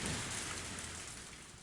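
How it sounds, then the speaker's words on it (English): Steady rain hiss in the Higurashi visual novel game, a dense, even wash of falling water heard alone at low volume without any voices. "And in the middle of the rain, Keiichi"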